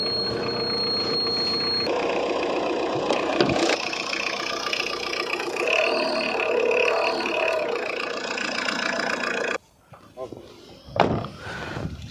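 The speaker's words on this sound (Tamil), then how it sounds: "இப்போ நம்ம இந்த வண்டியோட என்ஜினை ஸ்டார்ட் பண்ணி பார்த்துடலாம்." A used car's engine idles with a steady mid-pitched hum for about ten seconds at a used-car lot in Tirupur, Tamil Nadu, then cuts off abruptly, followed by a door-like thud; someone talks over it.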